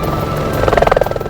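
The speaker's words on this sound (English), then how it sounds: "Mulder and Scully are being chased by helicopters." Helicopters thunder through a nighttime cornfield chase scene in a film, a loud close rotor roar whose rhythmic blade chop grows more pronounced over a brief moment.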